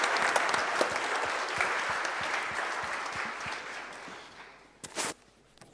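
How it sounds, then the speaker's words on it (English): Audience at a startup pitch competition finals applauding, a steady wash of many hands clapping that gradually thins out and fades near the end. "Okay, big round of applause"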